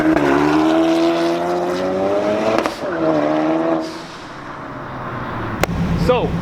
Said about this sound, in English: So overall, the pops that it gets, the backfires, Way louder.